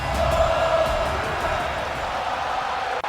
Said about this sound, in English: the Drew McIntyre chants electrify this crowd here around the arena